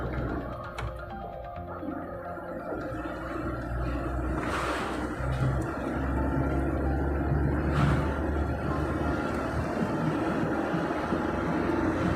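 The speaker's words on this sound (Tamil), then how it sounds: "லாரி வருது." Lorry on a mountain hairpin bend road rumbling closer as a low engine drone that grows steadily louder, heard from inside a moving vehicle, with no talk.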